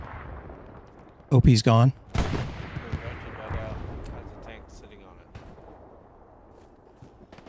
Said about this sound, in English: There's infantry around here somewhere. I hear them firing.